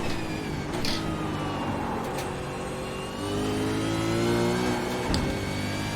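A V8 Supercar engine accelerates around the Bathurst mountain circuit during the 2022 Bathurst 1000, a loud, steady high-pitched roar with rising tones and brief gear-change breaks, heard close and without talk.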